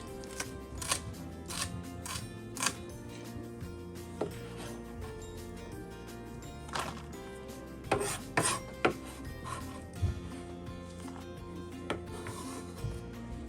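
A knife thinly slicing scallions on a cutting board, a series of close, irregular chopping taps and scraping strokes over a steady background hum.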